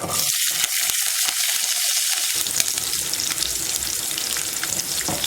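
Small shallots, garlic and curry leaves tipped into hot oil for a taro root tamarind kuzhambu: a burst of loud, broad sizzling with choppy bursts at first, settling into a dense continuous fry.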